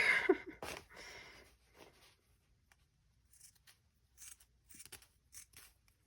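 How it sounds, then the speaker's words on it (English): Scissors snipping through thin lace, a run of soft, close crisp cuts spaced unevenly, louder at the start and then fainter, quick clicks with quiet gaps between them. "I like this thin lace because I can so I'm just kind of taking it and moving the scissors down with each cut"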